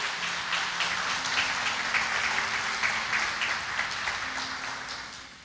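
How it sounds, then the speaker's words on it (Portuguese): A church congregation applauds during a sermon, with sustained, hissing clapping from many hands that stays steady and gradually tapers toward the end. "Vamos aplaudir poderosamente a palavra do Senhor."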